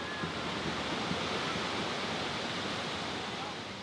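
Ocean waves at Sayulita, Mexico, heard as a steady soft roar of surf with a faint wind wash, moderately distant and unbroken by voices.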